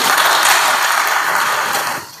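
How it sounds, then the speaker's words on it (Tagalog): A church congregation claps in a dense, steady burst of applause for about two seconds, loud and even before tapering off at the end, with no talk over it. "Palakpak ato Ginoo."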